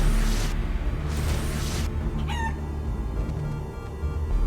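Cartoonish chicken squawks from a transformed character wall-jumping in the Guacamelee! 2 video game, a few short bursts over steady game music, loud and close, with no talking.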